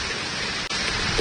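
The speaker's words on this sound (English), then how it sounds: "See that hail coming down there? A little lightning there. Some lightning and thunder." Heavy thunderstorm rain mixed with hail pours down steadily, a dense, loud, unbroken hiss with one brief dip midway.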